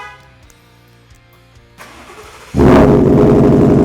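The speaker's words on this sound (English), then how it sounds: "So the truck's remote start, we're just gonna fire it up now." A 2015-2020 Ford F-150 with an AWE single side exit cat-back exhaust cold starts by remote start, a brief crank followed by a sudden loud, choppy engine roar that holds steady and close.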